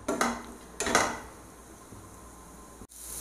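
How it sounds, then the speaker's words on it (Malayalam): Onion being sautéed in a pan on a gas stove for a Kerala breakfast dish, heard as a few clattering scrapes and knocks of a utensil against the pan in quick bursts, then a quieter stretch of faint sizzle, with no talking. "അതിലേക്ക് ഈ സവോള ഒന്ന് വഴറ്റിയെടുക്കട്ടെ."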